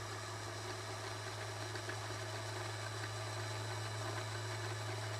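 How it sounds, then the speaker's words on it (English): A Janome sewing machine winds a bobbin with a steady, faint, even motor hum that holds unbroken for several seconds. "I'm going to continue winding my bobbin until it's about halfway to"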